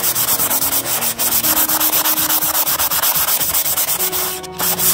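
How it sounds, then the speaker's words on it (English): Painted upholstery fabric is sanded smooth by hand with rapid rhythmic back-and-forth rasping strokes, loud and close, continuing steadily with no talking. "I have a little bit of texture here, and I'm just going to sand that off"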